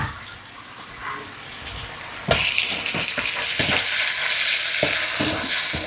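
Lemongrass, lime leaves and galangal sautéing in a pan for stir-fried bamboo shoots and skate, a quiet sizzle that jumps to a loud, steady crackling fry midway, with stirring clinks and scrapes throughout.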